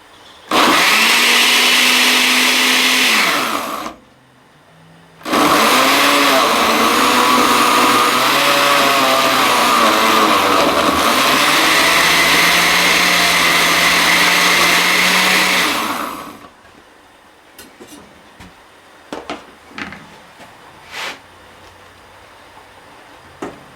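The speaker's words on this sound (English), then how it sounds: "Make sure you turn your blender on." A kitchen blender purees roasted poblano peppers for green spaghetti sauce, running loud and close in a short burst, a brief stop, then a long steady whir that labors and shifts pitch before cutting off, followed by light clatter.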